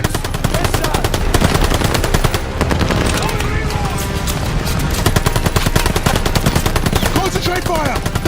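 Rapid, continuous machine-gun fire runs throughout a loud video game battle, with bursts of gunshots overlapping into a dense, relentless rattle and occasional shouted voices underneath.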